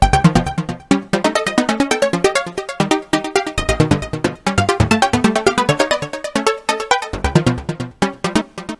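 Heavy techno from a MeloDramatik sequencer set to the D Neapolitan major scale: loud, fast repeating synth stabs in a tight rhythmic grid, melodic notes stepping around, with a few short drop-outs between phrases.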